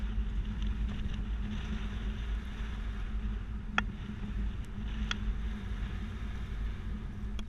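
A 2011 Subaru Forester carrying a two-bike rack drives through a slalom course, giving a steady, loud low rumble of road and wind noise with a couple of faint clicks from the rack.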